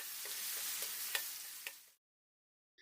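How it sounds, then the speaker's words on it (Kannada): Ground masala for egg curry fries in a pan, giving an even sizzle for about two seconds, with a few stirring scrapes. Near-silence follows, then a couple of faint clinks. "ಇದೇ ಪಾತ್ರೆಗೆ ನಾನು ಮಿಕ್ಸಿಗೆ ಹಾಕಿ ಗ್ರೈಂಡ್ ಮಾಡಿಕೊಂಡಿರುವ ಮಸಾಲೆನ ಹಾಕಿ ಚೆನ್ನಾಗಿ ಫ್ರೈ"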